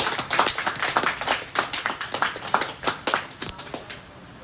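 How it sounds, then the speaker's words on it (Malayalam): Audience at a health awareness class anniversary event clapping, a run of sharp, fairly even claps in quick rhythm, close and moderately loud, tapering off near the end. "എല്ലാവരും നല്ലൊരു ക്ലാപ്പ് കൊടുക്കും."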